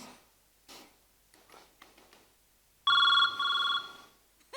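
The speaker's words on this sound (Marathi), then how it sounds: "तुमचा फोन वाजतोय." After a few soft rustles and knocks, a phone rings in two loud, bright electronic bursts separated by a brief gap, heard close and clear.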